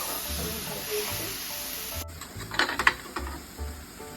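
Mango pieces fry in hot oil for a sweet mango pickle, a continuous hissing sizzle that swells into louder sputtering bursts partway through, heard close with no talking.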